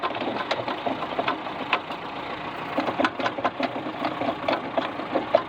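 A discbine mower runs at an even pace. Its steady mechanical drone is dotted with irregular sharp clicks and ticks, moderately close.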